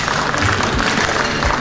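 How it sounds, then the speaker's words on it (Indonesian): Dense, steady applause from an audience at the BCA Indonesia Open 2015 badminton press conference at Hotel Indonesia Kempinski Jakarta. The clapping stays loud and unbroken from start to finish. "Tepuk tangan untuk BSCA."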